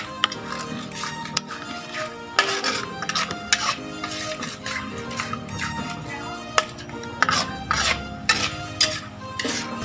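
Balado spice paste is stir-fried in a pan with irregular scraping and clinking of a utensil against the metal, close and busy, with faint talk underneath.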